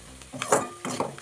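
Onions for an egg and green chilli kurma roast in a pan over a low flame, a soft sizzle broken by a few scraping stirs close by, with no talk.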